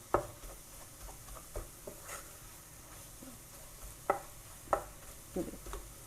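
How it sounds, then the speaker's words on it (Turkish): Flour being dry-roasted and stirred in a pan for mushroom soup gives a quiet, low rustle broken by sharp spoon scrapes and taps at irregular moments, with no voices. "unu güzel kavurmamız lazım"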